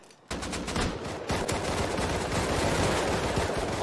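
Rapid shotgun and gun blasts from the survival game Rust burst in abruptly and continue as a loud, dense volley of overlapping shots.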